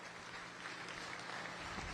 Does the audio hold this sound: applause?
yes